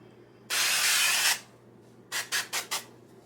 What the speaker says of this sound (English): I'm going to spray the top of our fish sticks with some avocado oil.